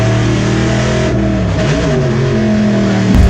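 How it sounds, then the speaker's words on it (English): A Boss Mustang race car at a Goodwood Members Meeting Gerry Marshall Trophy race, its big engine roaring loud and close as it accelerates, pitch sweeping through gear changes as it pulls past another car. "the grunt from the big engine make their way past the Escort"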